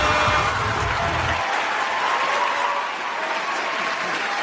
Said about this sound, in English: they didn't want to stop clapping for Franco